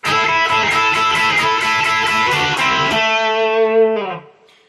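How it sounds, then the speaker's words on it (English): Electric guitar plays rhythmic repeated double stops, two notes struck together in a steady pattern, then a final chord rings out and fades. "I'll demonstrate the double stop technique that's going to feature in this lesson"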